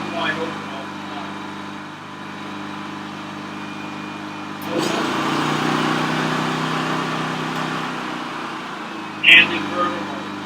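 A Champion dual fuel inverter generator runs at a steady drone, then its engine speed rises midway into a fuller, louder hum, with a person talking over it and a brief sharp click near the end.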